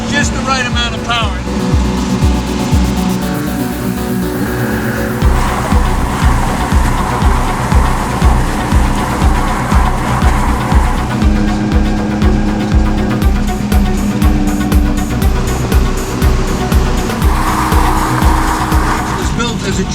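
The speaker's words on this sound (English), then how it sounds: "Ferrari engine that has just the right amount of power." A one-off Ferrari V12-engined Sensuale sports car, a tribute to 1960s sports racing GT cars, roars loudly and close, its engine note rising and surging with a brief tire squeal, a sustained powerful drive throughout.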